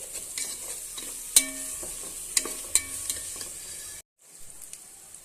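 Chicken curry with garam masala stirred in a pan: repeated scraping strokes and light clinks over a steady sizzle, close and clear, with no talk, and a brief cut to silence near the end.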